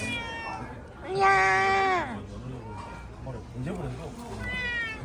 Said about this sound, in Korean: 애교냥이다, 애교냥.